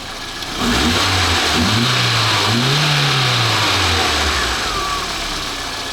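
A Lada Niva engine runs close by after a repair, revving up and down in a few smooth swells before settling back toward idle.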